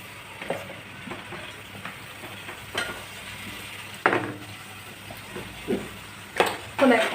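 Vegetables, potato, capsicum and sprouted peas being stirred in a frying pan, with soft sizzling underneath and a handful of scattered scraping clinks from a spoon against the pan, close by, alongside a person's speech.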